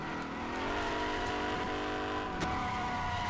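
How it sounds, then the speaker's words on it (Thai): A car in the Drift Legend mobile racing game holds a steady, loud engine drone with the throttle pinned while drifting, plus a brief sharp skid-like burst near the end. "ถ้าผมเหยียบคันเร่งแช่ไว้ นี่คือรถมันจะหมุนเลย"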